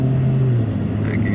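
Twin-turbo Cadillac running on E85 fuel accelerates hard from inside the cabin, a loud steady low engine drone with a rising whine near the end as the turbos spool, under speech.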